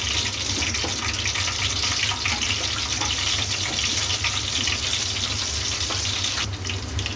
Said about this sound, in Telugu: గ్రీన్ చిల్లీ కొంచెం ఫ్రై అవ్వాలి.